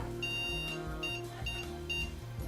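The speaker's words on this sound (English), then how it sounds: "the beeps and lack of posting to me say that it doesn't like the graphics card" An AMD Phenom PC on the AM3 platform with a newly added graphics card fails to post, giving four short, evenly spaced high beeps over a steady low droning background.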